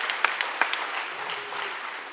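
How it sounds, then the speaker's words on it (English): An audience at a Keswick Convention concert gives a round of applause, steady moderate clapping heard from across the hall with a few sharper claps standing out early. "Give Judy a round of applause."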